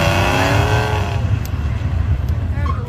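A pickup truck accelerates at a drag strip, a loud rising engine roar that sweeps up in pitch and then holds a broad, rumbling growl, with crowd or track noise mixed in.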